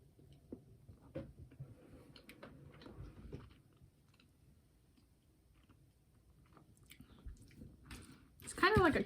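Someone eats an egg tart with a custard filling and a crust like a quiche, making quiet close chewing and soft biting sounds, then a louder crunch near the end.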